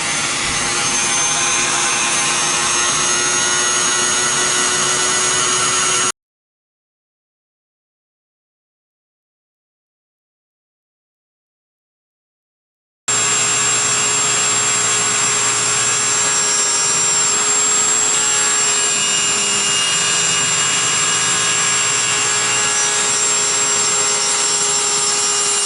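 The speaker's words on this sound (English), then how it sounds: "I have one of the little round stones in here. I think it'll work out just fine. Let's get this thing cranked up. Do this little bit of engraving." A rotary tool fitted with a small round stone grinds into a wooden gun stock, a steady high whine with abrasive rubbing, loud and close, broken by a long silent pause before the tool runs again.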